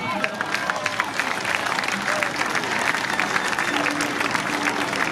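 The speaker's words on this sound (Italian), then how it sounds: "Forte l'applauso!" Audience applause at a traveling folk music festival in Sternatia, a dense, sustained wash of clapping from a large crowd, steady and fairly loud, with faint voices and a brief tone mixed in.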